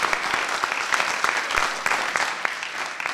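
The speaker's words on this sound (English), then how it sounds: "I didn't mean for that to be an applause" Audience applause at a public speech, a dense steady wash of many hands clapping close and fairly loud throughout, with no voices over it.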